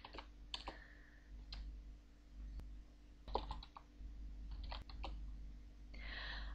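Typing on a computer keyboard while playing the text-based game Aardwolf MUD: scattered bursts of key clicks separated by pauses, fairly close and quiet over a low steady room hum.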